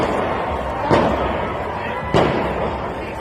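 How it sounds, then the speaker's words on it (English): Gunshots during live outdoor coverage of a Trump parade: two sharp, loud cracks roughly a second apart stand out over a steady wash of crowd and background noise. "That's a gun."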